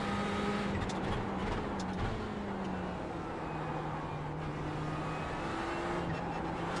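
Race car engines in the iRacing sim, likely powerful 600 to 1,000 horsepower turbo cars, drone steadily at a constant level with shifting pitch as cars run together, no voices over the sound.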